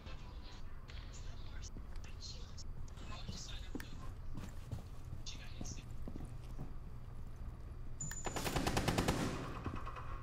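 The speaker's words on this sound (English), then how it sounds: "Who the frick are you shooting at?" Gunfire in the tactical shooter Rainbow Six Siege, scattered sharp shots through the clip with a dense, louder burst near the end, over steady background noise.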